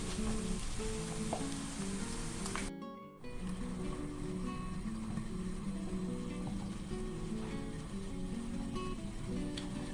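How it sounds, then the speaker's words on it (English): Preserved radish (chai por) fries in hot oil while being slowly stirred until crispy, giving a steady, close, dense sizzle with faint scraping and a brief dropout near three seconds. "we are just going to slowly stir it until it becomes crispy"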